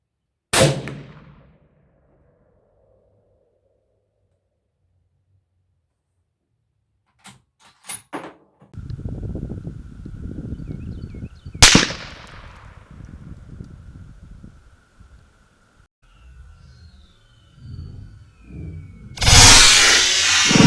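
A .338 Lapua rifle fires at a level 4 ceramic body armor plate set at 100 yards, with a sharp crack near the start and later loud impacts and clanks among scattered handling and rustling noises.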